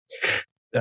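A single close sneeze indoors, sharp and brief, followed shortly by a quick intake of breath or the start of a second burst.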